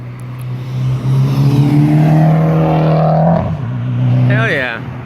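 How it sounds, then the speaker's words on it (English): A turbocharged Mitsubishi Evo revs loudly nearby, its engine drone holding steady and then climbing again in a second rev toward the end. "We're hearing a turbo Evo over here."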